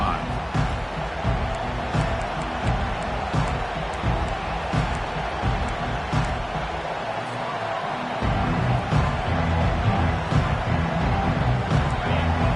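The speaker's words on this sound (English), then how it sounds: "this home crowd is fired up and ready to make a difference today" Home crowd noise at an LSU vs Texas A&M college football game, a steady roar of stadium cheering and babble that swells louder near the end.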